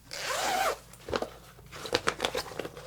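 A zipper on a film-changing bag is pulled in one long, raspy stroke, followed by soft crinkling, rustling and handling clicks as the film is worked by hand at close range.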